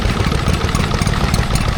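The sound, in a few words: Stuart Turner P4 two-stroke stationary engine running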